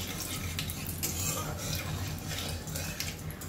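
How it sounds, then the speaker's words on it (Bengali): Black cumin seeds tempering in hot oil are stirred in a pan, a soft scraping and sizzling that holds steady throughout at close range. "ফোড়নটা একটুখানি নেড়ে নিচ্ছি।"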